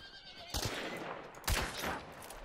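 A horse in the video game Hunt: Showdown whinnies in two short, loud bursts amid a noisy, rumbling background, with no talking.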